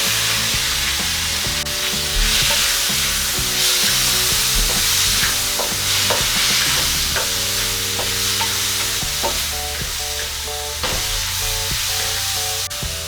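Tomatoes stirred into chicken frying in a pan for kinamatisang manok, a loud continuous sizzle close by with repeated scraping and clinking strokes against the pan throughout, and no talking.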